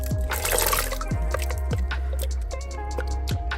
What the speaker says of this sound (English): We're gonna dump it into the water with beans.